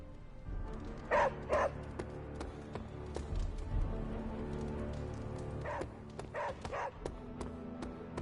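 A dog in the video game Midnight Suns gives a few short barks and yips, two early and a cluster of three later, over quiet background sounds.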